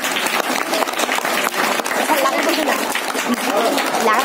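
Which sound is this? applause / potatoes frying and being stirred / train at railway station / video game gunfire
applause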